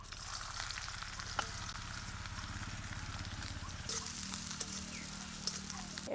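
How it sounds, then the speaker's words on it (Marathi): Mustard seeds and chopped onion fry in hot oil for a vegetable dish, giving a steady dense sizzle with a few sharp pops from the seeds, close and continuous throughout. "भाजीसाठी आता तेल टाकून घेऊ. 1 चमचाभर मोहरी, चिरून घेतलेला कांदा,"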